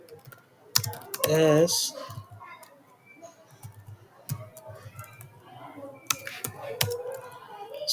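A computer keyboard clatters in uneven bursts of keystrokes during the writing of an SQL query, with a brief spoken word amid the typing.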